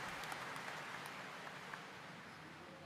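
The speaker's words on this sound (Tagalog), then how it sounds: "Kaya bigyan po natin ng malakas na palakpak at papasalamat ang ating pong mahal na pong Jesus Nazareno." A church congregation applauding during a homily, a dense, steady patter of many hands that holds at an even level without a break for a few seconds.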